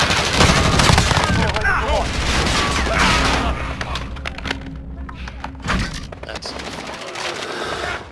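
Gunfire in the Call of Duty video game during an online match, with a dense burst of shots over the first few seconds, then sparser reports against a busy background with some voice.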